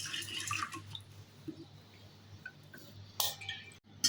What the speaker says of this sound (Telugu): శనగపప్పు 1 కప్పు తీసుకొని శుభ్రంగా వాష్ చేసుకోండి.